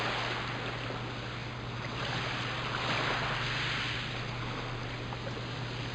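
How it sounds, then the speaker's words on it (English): Ocean waves from the game Lunar: Silver Star Story, a steady, dense roar of surf and rushing water that holds at an even level, with a faint low hum beneath and no voices. "sound effects of waves"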